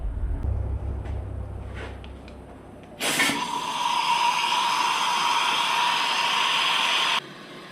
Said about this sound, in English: I was using air pressure to hold the valves open to change the springs.